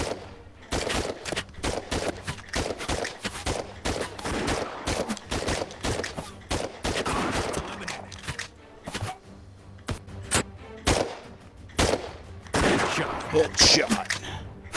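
Gunfire in the VR shooter Operation Serpens comes as rapid bursts of close, sharp shots and clattering impacts, loud and irregular across the whole stretch, with short gaps between volleys.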